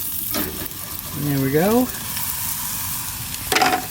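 Flapjacks sizzle steadily on a camp griddle while being flipped, with a brief pitched sweep midway and a short remark from a man over the frying.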